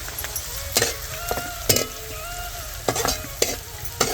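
Curry leaves drop into hot oil that already holds frying coconut and garlic, for a home-style dal amti. The oil gives loud, close sizzling bursts between steady stirring scrapes, with no voices.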